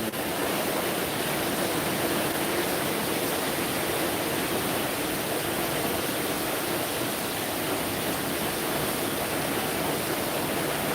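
Heavy storm rain in Vientiane, Laos, pouring steadily with water running through the streets, a dense continuous hiss at constant loudness, close and unbroken with no voices.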